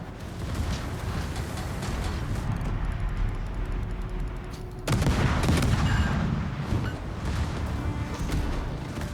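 Naval gunfire in World of Warships, a dense barrage of heavy cannon blasts and rumbling battle noise that surges louder midway and stays loud and continuous throughout, with no talking.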